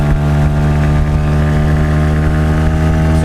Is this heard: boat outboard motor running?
yes